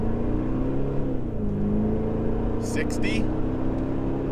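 A Toyota Landcruiser accelerates hard from a standstill under full load, its steady engine drone rising in pitch, while a voice calls out speeds over it.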